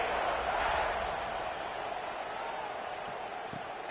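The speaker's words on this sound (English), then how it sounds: "this crowd is buzzing after that last score" Stadium crowd at a college football game between Vanderbilt and Auburn, buzzing after a touchdown, a steady broad roar of many voices that stays loud and even throughout.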